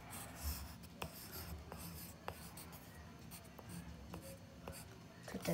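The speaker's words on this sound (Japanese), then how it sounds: "ちょっとポチポチする音は気にしないで。" Faint pen scratching while drawing on a surface, broken by small sharp tapping clicks at irregular intervals, close and quiet with no voices.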